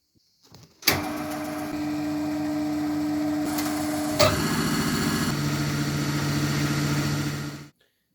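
Electric two-speed motor of a FASEP RASE.TOP.3030 Variant tyre changer starting with a thump, running at a steady hum, shifting pitch midway with a clunk, then stopping abruptly; loud and close with no talk.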